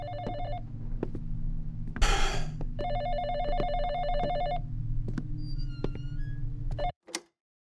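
A telephone rings in the video game Exanimum: The Silent Call, a loud repeating electronic bell in regular bursts for about seven seconds before it cuts off, followed by a short click.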